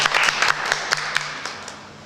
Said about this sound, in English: let's clap our hands together